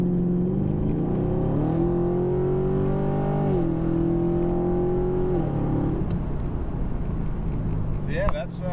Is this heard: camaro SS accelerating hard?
yes